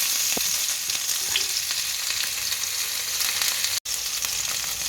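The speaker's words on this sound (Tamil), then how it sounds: "இப்போ பாருங்க வெங்காயம் போட போகிறேன்" Onions for chicken noodles fry in a pan with a strong, constant close-up sizzle and occasional stirring taps, and a split-second cut near the end.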